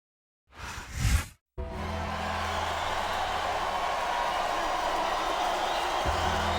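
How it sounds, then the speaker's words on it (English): A virtual arena crowd in the WWE SmackDown vs Raw 2007 wrestling game roars in a loud, sustained wash after a tombstone pile driver and pin, preceded by a short whooshing burst. "I love hearing the crowd come alive"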